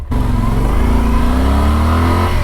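A KTM 1190 Adventure R motorcycle fitted with windscreen, crash bars, skid plate and panniers accelerates hard, its engine note climbing steadily and loudly up close for the whole stretch, with no talk over it.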